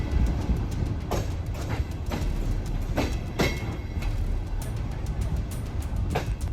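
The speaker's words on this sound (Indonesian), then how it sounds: "Jokowi dan Iryana Jokowi berangkat menuju Kiev menggunakan kereta" A train at Przemyśl Główny station in Poland, a continuous low rumble of rolling railcars with a series of sharp, irregular wheel clacks over rail joints, close and steady.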